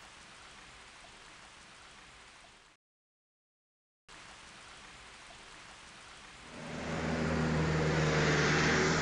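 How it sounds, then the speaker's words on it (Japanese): Light, steady rain patters softly in an RPG scene, a constant hiss that cuts out briefly to silence, then returns and swells louder toward the end. "どうやら今日は一日小雨が降り続くみたいだな。"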